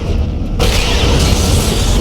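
A Romulan ship blows up in the Star Trek Legacy space combat game: a sudden loud, full-band boom that swells into a sustained roaring rumble, heard on its own.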